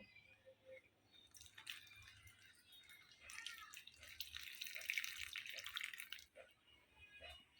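Water is poured onto a potted plant indoors, giving an uneven splashing trickle that swells and fades over several seconds with a few faint drips, fairly quiet with no talk.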